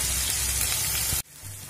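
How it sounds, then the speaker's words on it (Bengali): Spice paste fries in oil in a pan over a medium flame, a loud dense sizzle that cuts off abruptly and drops to a quieter hiss. "মশলাটা কষিয়ে নেব।"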